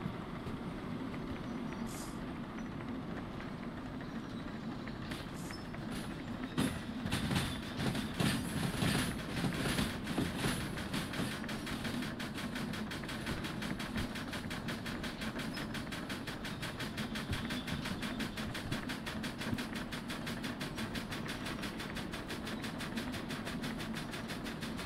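A train in the video game Derail Valley rolls steadily along the rails with a continuous rumble and rapid clickety-clack, with a burst of louder clatter early on.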